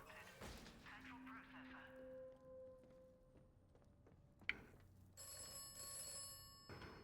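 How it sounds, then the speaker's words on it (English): Telephone ringing in the video game Atomfall, a faint bell-like ring with sustained tones under quiet background sound, followed by a thud and a brighter high ringing burst near the end. "The phone, I suppose."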